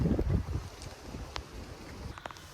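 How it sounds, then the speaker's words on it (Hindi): Strong gusting wind outdoors during stormy UK weather buffets the microphone as a deep, rough rumble, heaviest at the start and then easing into a steady low roar with a few faint clicks. "इतना बाहर हवा चल रही है, इतना तूफ़ान है"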